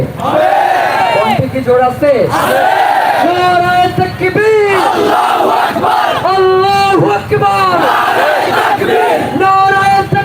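Large crowd of protesters at a March for Insaf rally in Bangladesh chanting slogans in loud, rhythmic unison, the call-and-response cries continuous and close throughout.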